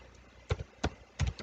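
Keys tapped on a computer keyboard, a few quiet separate clicks in short bursts, close and faint in a still room.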